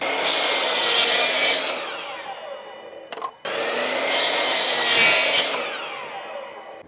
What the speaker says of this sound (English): We're gonna set up here on the miter saw. I need to cut a bunch of boards at 7 1/4.